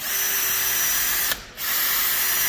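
A power drill bores into the sheet metal of a fire door to fit a panic bar, a loud steady whine that briefly drops away mid-clip before resuming at full strength.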